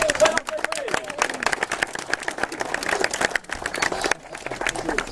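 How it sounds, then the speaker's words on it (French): A crowd applauds a young minimes-category cyclist from the Vélo Club de Rochefort at a race award ceremony in Saint Felix, with steady clapping mixed with a voice over a loudspeaker and a brief lull near the end. "Accueillons par vos applaudissements."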